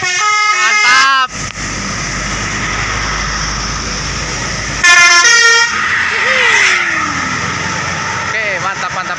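Indonesian telolet horns on buses passing near Al Jabar in the rainy season blare in loud bursts of rising-and-falling melodic tones, one at the start and another midway, over steady traffic rumble with crowd voices around.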